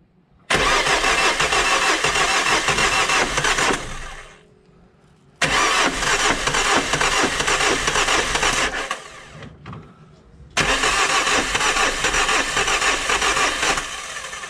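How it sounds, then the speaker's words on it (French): A car engine being cranked during a glow plug test turns over in three loud, close bursts of several seconds each, with brief quiet pauses between them. "Vas-y, Patrick, mets-nous un coup de démarrage."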